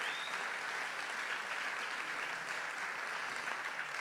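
Sustained applause from a church congregation, steady and dense across the whole stretch with no pauses, filling the space evenly at a moderate distance.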